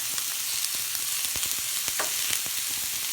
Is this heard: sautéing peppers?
yes